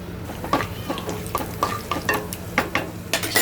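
Mustard seeds, cumin, urad dal and toor dal fry in hot oil with crushed garlic, making a close, lively crackle with sharp popping bursts over a steady sizzle and utensil scrapes, for a brinjal fry.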